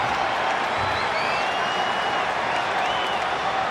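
A home crowd cheers and claps in a WWE 2K20 wrestling arena during an Iconics tag match, a constant dense roar with whistles and whoops rising over it, filling the space without a break.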